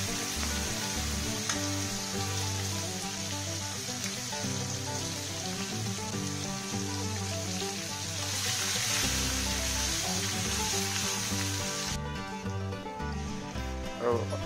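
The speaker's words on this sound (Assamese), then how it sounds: "জাষ্ট 10 ছেকেণ্ডমান লৰাই লৈ গৰম হোৱাৰ লগতে ইলাচখিনি দি দিলোঁ।" Whole cinnamon and cardamom sizzle in hot oil, a steady frying hiss carried under prominent background music throughout.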